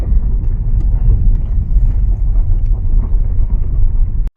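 A 2016 Dodge Dart with a 1.4L engine, showing ABS and traction control faults, is left running. It gives a loud, steady low rumble with wind buffeting the microphone, then cuts off abruptly at the end.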